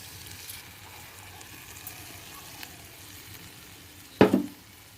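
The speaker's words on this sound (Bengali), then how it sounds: "দিয়ে দেবো আগে থেকে ভিজিয়ে রাখা আতপ চাল।" Soaked atap rice with its water is tipped into a pan holding a paste of nuts, sesame and green chilli, giving a short, sharp splash and sizzle near the end after a quiet, steady frying hiss.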